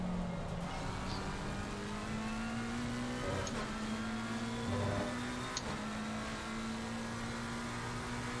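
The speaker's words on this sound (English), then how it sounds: "There goes the Porsche." A Porsche race car in a Nürburgring racing video game drones past in the distance, its engine note rising and falling steadily beneath a constant mechanical hum, fairly quiet and with no talk.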